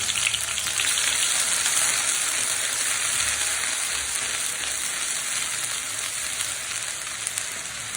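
Onion paste hits a small amount of hot oil for a mustard fish curry and fries with a loud, dense, continuous sizzle that fades slightly toward the end. No one talks.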